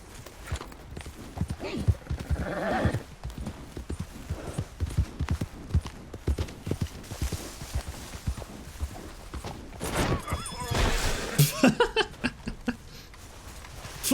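Horse hooves clip-clopping on the ground in the Red Dead Redemption II video game, a steady close trotting rhythm with creaks and game ambience, and someone talking over parts of it.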